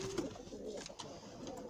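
Racing pigeons coo softly in a loft, low throaty murmurs repeating through a faint background hum, fairly distant and quiet.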